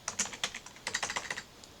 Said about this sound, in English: don't have nails while typing for this AP exam